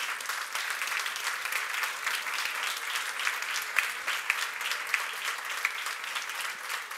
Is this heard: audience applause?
yes